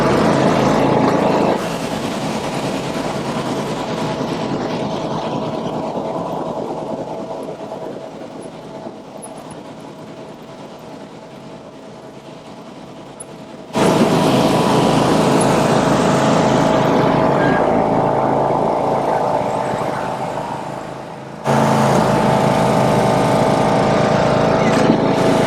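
A 2011 John Deere D100 riding lawn mower roars loudly while racing laps around a pond, the engine drone steady and close with rattling and clattering, fading slightly at times before surging back without speech.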